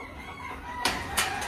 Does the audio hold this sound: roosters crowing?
yes